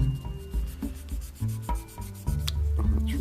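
A tri-grit sanding stick rubbed back and forth across a Gundam model kit part to remove scratches, a quick series of close, dry scraping strokes with brief pauses.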